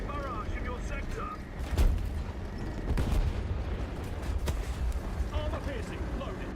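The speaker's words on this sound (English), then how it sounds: "Artillery barrage in your sector." An artillery barrage in the tank combat game War Thunder: a steady rumble of distant explosions, with several heavier booms standing out at irregular intervals.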